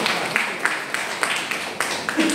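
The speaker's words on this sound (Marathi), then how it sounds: "यांच्यासाठी पण एक जोरदार टाळ्या." Audience applause at a live event: a steady wash of clapping with irregular sharper claps, moderately loud and close, running throughout the brief stretch.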